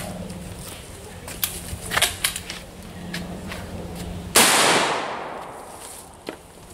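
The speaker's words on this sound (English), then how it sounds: "Fire off a round into the pizza box" Rifle fire from an H&R .223 and a Marlin .22 LR outdoors: a scatter of sharp cracks early on, then one loud shot that rings out and fades over about two seconds, with a faint later pop.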